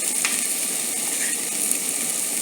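Garlic and onions sizzle in a hot pan, a steady bright crackling hiss with faint pops and clicks, close and unbroken with no talk.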